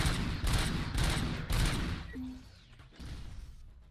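Rapid gunfire in the video game Robocop: Rogue City, with dense, loud bursts in a fast rhythm. A short mechanical tone comes during a brief pause before the firing resumes.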